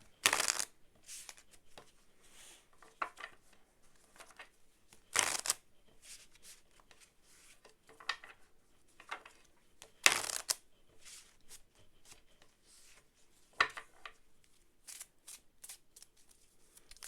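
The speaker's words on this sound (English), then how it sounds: "Let's shuffle and pull some advice cards." Tarot cards being shuffled in repeated bursts, crisp riffling and flicking that returns every few seconds with quieter handling in between, close to the ear.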